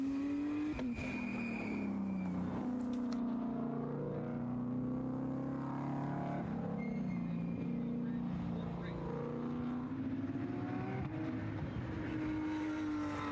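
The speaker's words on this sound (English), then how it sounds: "as we are now just past halfway here in this race, and Corey Markovitz, your leader right now," Race cars lapping the Summit Point circuit during an SCCA MARRS race, a steady engine drone with shifting pitch as cars pass, continuous and moderately distant throughout.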